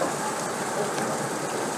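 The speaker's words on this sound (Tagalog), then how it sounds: "umuulan na po ng malakas sa amin at binabaha na kami dahan-dahan." Heavy monsoon rain during flooding in the Philippines, a dense, steady roar of downpour close by, loud and unbroken with no voices.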